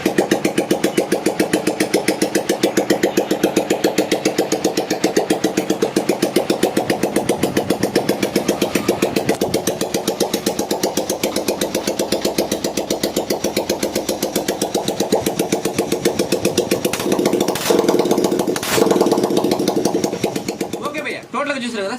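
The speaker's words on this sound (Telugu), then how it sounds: "బండి సైలెన్సర్ లేకుండా ఒక బండి వీడియో అయితే షూట్ చేస్తాను" A Hero Karizma motorcycle engine runs with its silencer removed, a loud, steady rapid exhaust beat that holds for about twenty seconds, with a couple of sharper revs near the end.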